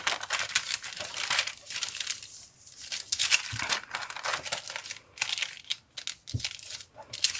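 Scissors slice through tracing paper during a Halloween paper-pocket craft, giving close, crisp crinkling and snipping over several seconds with uneven bursts and short pauses.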